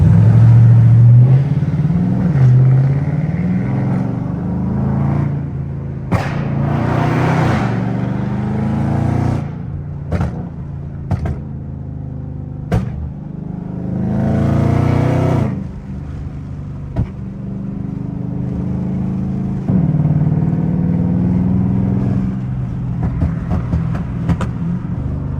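A Mopar car with a burble tune drives through city traffic, its exhaust droning loud and close, with several sharp pops and crackles breaking through the steady engine rumble.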